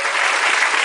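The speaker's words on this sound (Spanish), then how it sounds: "yo les pido un aplauso para todos ustedes" At a school certification event, an audience applauds with a brief burst of dense, even clapping.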